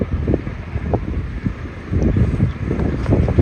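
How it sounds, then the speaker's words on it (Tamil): Gusting wind blows across an outdoor cricket ground during a local tournament match, a steady low rumble of buffeting against the microphone that swells and eases throughout, with no other clear sounds on top. "ஸ்ட்ரைட்டுக்கு ஆப்போசிட் விண்டு அடிச்சிட்ருக்கு"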